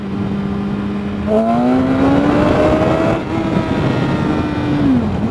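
A motorcycle accelerates into a wheelie: a loud, close engine whine climbing steadily in pitch, with a shift partway through, under steady wind rush, then easing off at the end.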